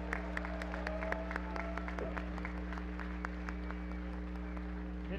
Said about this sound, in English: Everybody, a big round of applause for Rener Gracie.